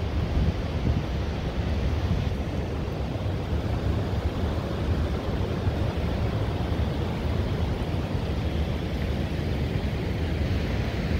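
Surf washing on a driftwood-strewn beach at Whiskey Run, a steady broadband roar of waves mixed with wind buffeting the microphone, constant and loud.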